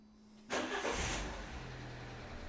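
A 2010 Fiat Punto Evo 1.4 with a brake booster pressure sensor circuit fault starts up close by: a quick crank and catch into a loud burst that settles to a steady idle.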